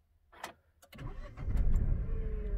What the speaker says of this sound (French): start and stop, pied sur le frein, petit démarrage.